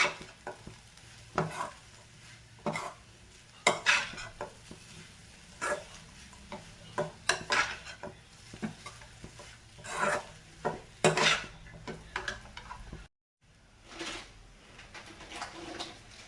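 A spatula scrapes and stirs leftover chapati noodles in a pan, giving irregular close rasping strokes with quiet gaps between them and a soft sizzle underneath.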